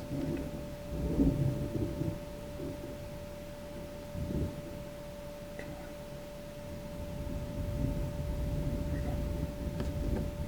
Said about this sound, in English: The storm came back.